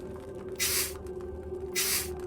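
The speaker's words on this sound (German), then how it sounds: "du musst nicht die ganze Zeit sprühen" A spray bottle in the video game Darkness Within 2 gives two bright, breathy hissing sprays about a second apart, each lasting around a third of a second, over a low steady in-game hum.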